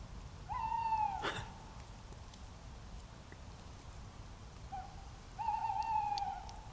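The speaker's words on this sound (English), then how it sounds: "Come on, Mr. Owl, hoot for me." Two owl hoots sound a few seconds apart, each a clear drawn-out call with a faint quaver, over quiet background noise in an ancient forest.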